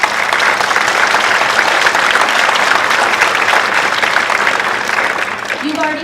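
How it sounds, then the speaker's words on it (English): An audience at an elementary school winter concert claps steadily for about six seconds. The sustained, dense applause fills the hall and only begins to taper at the end. "Could you please give her a round of applause?"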